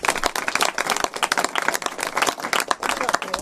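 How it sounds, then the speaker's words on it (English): Audience clapping at a California bill-signing event honoring the Majority Leader and the Women's Caucus, a dense, steady patter of hands with crowd noise mixed in throughout. "So a huge round of applause for the Majority Leader and for the Women's Caucus."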